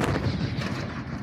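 Artillery fire booms in a dense, rumbling burst, loud and continuous for a moment with a heavy low-end roll and no talk.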